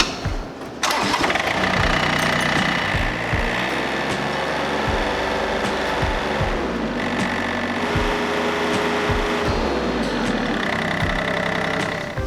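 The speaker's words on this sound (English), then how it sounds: "we better test out the tractor and see if it's going to run." A John Deere 955 compact tractor engine cranks, catches and then runs steadily at close range. Its rough diesel idle holds for about eleven seconds, with a few clunks and knocks mixed in.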